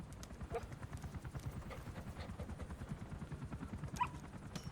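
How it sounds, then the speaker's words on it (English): Game dog D-Dog from Metal Gear Solid V: The Phantom Pain, giving a few short barks and yips over a steady rhythmic thumping of running footsteps and game background sound. "What a delightful dog."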